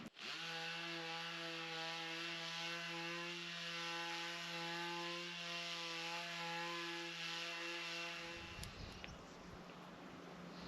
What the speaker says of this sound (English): something that's basically a mindless task is sanding and staining the beam